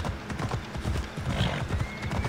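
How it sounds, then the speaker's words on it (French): A mountain horse in Assassin's Creed Odyssey clip-clops steadily uphill, its hooves beating a quick irregular rhythm up close, with a short whinny partway through. "un bon cheval de montagne"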